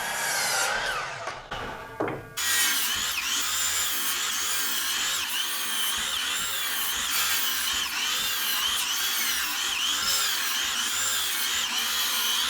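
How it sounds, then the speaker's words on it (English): A power saw cuts wooden wall studs for framing a tiny house's wheel wells, a steady loud rasping whine that fills the clip after a few short preliminary bursts of cutting. "Then I just slide it up to my line and I can keep cutting."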